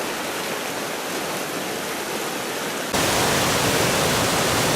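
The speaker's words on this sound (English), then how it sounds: "Everywhere we went, we saw rapidly flowing streams." A rapidly flowing mountain stream in Colorado during spring snowmelt rushes in a steady, dense roar with no voices, growing suddenly louder partway through.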